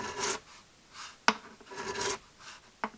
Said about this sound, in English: gently take strokes off of the top of the fret and slowly work that scratch pattern from the fret filing right to the middle of the fret